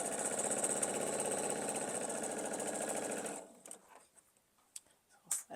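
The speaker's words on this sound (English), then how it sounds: "I'm going to do a little bit of backstitching just to make sure that everything stays nice and secure" Sewing machine backstitching a quilt block, a steady close mechanical whir for about three seconds that stops abruptly, followed by quieter handling clicks and rustles.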